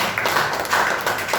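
Audience clapping at a networking business seminar, a dense, steady patter of many hands with slight swells, close and fairly loud, no voices over it.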